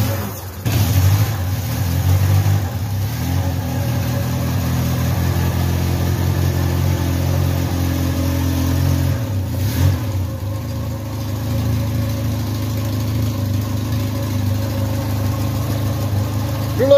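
A midget race car's roughly 50-horsepower engine idles steadily and loudly for the whole stretch, a low continuous rumble with slight wavering and no speech over it.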